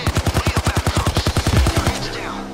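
Rapid automatic gunfire in the heist shooter Payday 2, a steady burst of about twenty evenly spaced shots, loud and close, ending abruptly with a short ringing tail.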